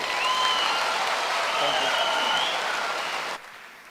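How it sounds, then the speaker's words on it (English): Audience at a graduation ceremony applauds steadily for nearly three and a half seconds, a dense wash of clapping with some voices mixed in, before it drops away abruptly. "Please let us give Waziri a big round of applause as he takes his seat"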